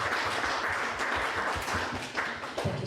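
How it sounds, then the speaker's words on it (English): Audience applause fills a talk-show session, a dense, steady wash of many hands clapping close by with no pause across the stretch. "Everybody give yourselves a round of applause"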